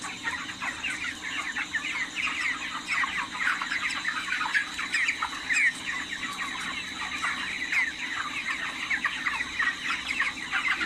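A flock of farmed chickens clucks and chirps continuously while feeding together, many birds at once at moderate distance, with a soft scratching, pecking texture throughout.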